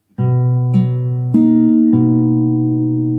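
Guitar strings are plucked one after another over a held chord, a low bass note on the 4th string first and then the 3rd and 2nd strings ringing together, sustained and clear.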